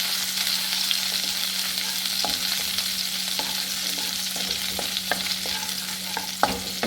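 Garlic frying in a pan, a steady close hiss of oil and sizzle with occasional faint scrapes of stirring.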